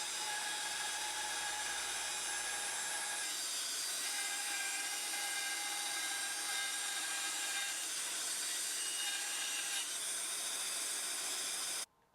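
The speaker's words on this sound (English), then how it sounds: "I can then use the bandsaw to cut the curve out on both of the end pieces" A bandsaw cuts a curve in wooden end pieces with a continuous high whine and hiss that holds steady for the whole stretch, and a low hum drops away early on.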